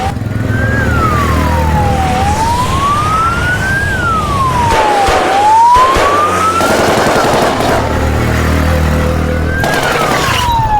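A loud wailing ambulance siren sweeps slowly up and down in pitch, close by, with rumbling traffic noise underneath and no voices.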